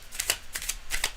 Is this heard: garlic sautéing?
no